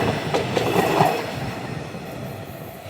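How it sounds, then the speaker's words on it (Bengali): A train rumbling past in the evening, a loud, steady roar with rattling wheels on track, close by and gradually easing, with no talk. "এটা ভাইরাল ট্রেন আসছে।"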